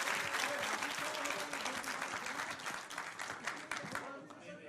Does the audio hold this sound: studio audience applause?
yes